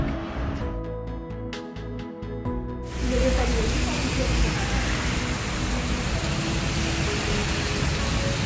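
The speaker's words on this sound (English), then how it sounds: "Why does it always rain on us?" Rain falls on a windy marina walk, starting as a dull mechanical rumble before a dense, loud, steady hiss of rain and wind sweeps in and holds to the end.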